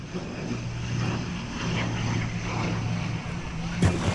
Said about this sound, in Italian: sta arrivando anche un aereo in fase di atterraggio